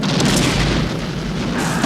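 A loud, sustained movie explosion from Tango & Cash (1989) rumbles with deep booming low end and a wash of crackling debris, continuing for a couple of seconds without any voices.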